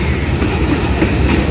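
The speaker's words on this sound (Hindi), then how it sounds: "सामने से आ रही है 28 डाउन शालीमार एक्सप्रेस" The 28 Down Shalimar Express passenger train arrives at Toba Tek Singh station in Pakistan, running about three hours late, with a loud, close, continuous rumble of wheels and cars rolling past.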